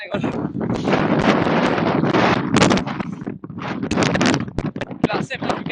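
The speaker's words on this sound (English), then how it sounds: "It is so windy." Strong wind on a coastal road near a cliff edge buffets the microphone in loud, rumbling gusts that swell and drop, with a voice talking intermittently over the roar.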